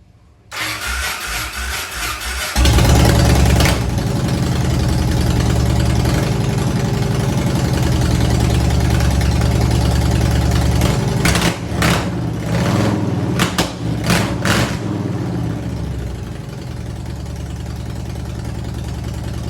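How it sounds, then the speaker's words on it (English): A 2005 Yamaha Warrior 1700 motorcycle engine cranks and catches, then settles into a loud, throbbing idle close by, with a few sharp revs and sputters partway through. "So I'll fire it up, let you hear it"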